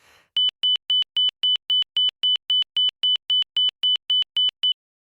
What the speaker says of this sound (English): The inner marker then sounds like this.